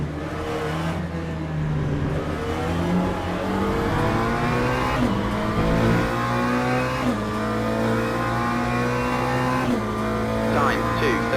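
A GT3 race car in the video game Le Mans Ultimate revs hard and continuously, its engine pitch climbing and dropping through repeated gear changes with faint tyre noise, loud and close, with someone talking over it.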